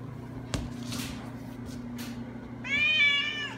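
A cat gives one clear, drawn-out meow near the end, close and fairly loud, after a faint click and low background hum.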